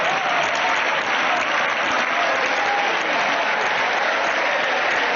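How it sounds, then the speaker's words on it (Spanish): Loud, sustained applause fills a parliamentary chamber for the whole stretch, a dense unbroken wash of many hands clapping with no voices rising above it. "un minuto de aplauso, ni a Feijóo le aplaudieron tanto."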